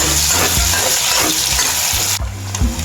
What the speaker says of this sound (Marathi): त्याच कढईत कांदा भाजून घेते